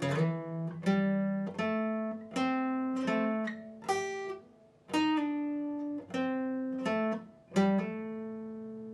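A guitar plays the intro of a song slowly, plucking a sequence of notes and small chords one after another, each ringing before the next. The playing is close and clear with no voices.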